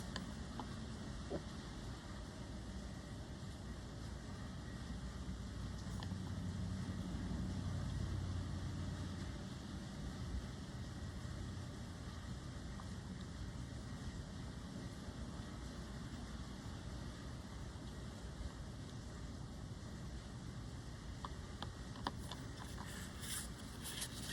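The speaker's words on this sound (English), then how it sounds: "Can you guys hear the rain?" Rain from a thunderstorm falls outside as a faint, steady wash of patter that holds evenly all the way through. No one speaks over it.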